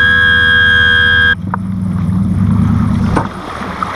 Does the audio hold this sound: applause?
no